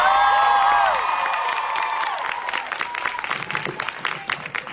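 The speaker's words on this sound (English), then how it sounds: "One more round of applause for Sadie and Dylan." Audience applause and cheering for Sadie and Dylan at a live show, starting under a held musical tone and voices, then breaking into scattered clapping and whoops that stay fairly loud.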